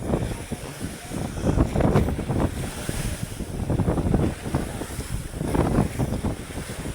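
Ocean waves slap and splash against a small boat at sea on a run from Dinahican, with steady wind buffeting the microphone and surges of water rising and falling throughout.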